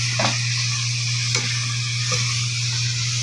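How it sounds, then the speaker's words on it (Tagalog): Chayote and chicken balls sauté in a pan, a steady close sizzle over a constant low hum, with a few faint stirring clicks. "Ito yung ginisang sayote na hindi giniling ginamit kundi chicken balls."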